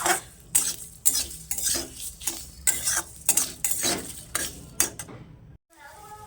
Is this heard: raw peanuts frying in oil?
yes